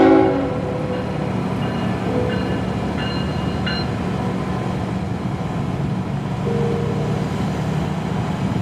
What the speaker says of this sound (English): to be surprised to hear yet another Norfolk Southern train